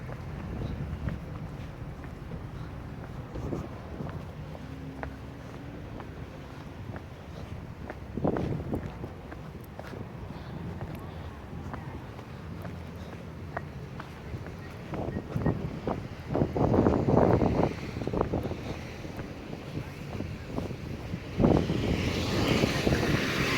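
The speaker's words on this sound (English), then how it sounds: "It's a little windy." Low gusts of wind buffet the microphone, rumbling unevenly with occasional stronger bursts and faint thuds in the background.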